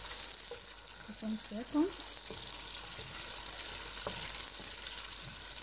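Turmeric rice cooking in a pot gives off a low steady sizzle and crackle, with a voice speaking briefly over it.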